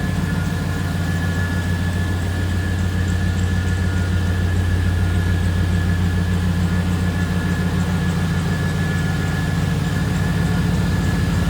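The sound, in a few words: V8 truck engine idling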